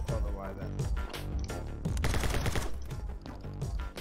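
Rapid submachine gun bursts in the action game My Friend Pedro, loud and dense, firing in sustained sprays with game audio layered underneath.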